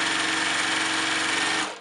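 A fast sewing machine running at about 1,500 stitches per minute chain-pieces fabric with a quick, even mechanical whir. It is close and steady, then winds down at the end, with no talking.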